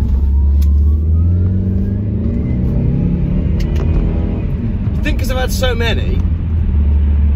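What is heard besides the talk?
Saab 9-5 Aero car driving on road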